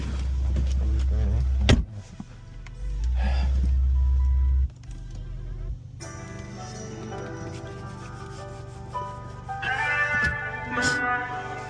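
BMW G20 with 80,000 miles starting and idling rough with a misfire, a loud low roar at first that settles into an uneven, rumbling idle with mechanical rattles.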